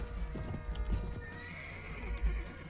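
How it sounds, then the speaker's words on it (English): Cavalry horses in Mount and Blade: Warband thunder past with quick clip-clop hoofbeats and a whinny, fairly faint in the battle mix with a tone sounding in the background. "Okay, their cavalry is coming in."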